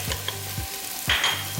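Chopped brown onions and garlic frying in a pan for a lamb curry, stirred with a few scraping strokes over a steady close sizzle, no talking.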